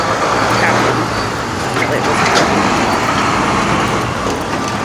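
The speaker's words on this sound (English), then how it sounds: "Sorry, loud truck." Loud truck passing along a city street, a dense continuous roar of engine and road noise close by, filling the scene with a voice talking underneath.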